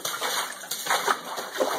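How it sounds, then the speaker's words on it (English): Boots splashing through standing water on a flooded basement floor, a series of close, wet sloshing steps in an irregular rhythm with no talk. "but just you hear the splashing of my boots"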